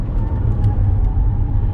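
A Toyota Mirai hydrogen fuel cell car drives at full power, heard from inside as a steady loud low rumble of road and motor noise with no talk.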